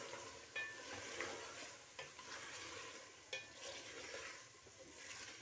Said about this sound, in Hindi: मटर और आलू ऐड कर देती हूँ और इनको साथ ही मैं भून लेती हूँ।